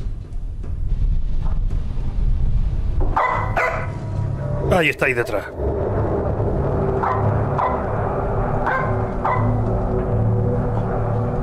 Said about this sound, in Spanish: El perrito se ha despertado.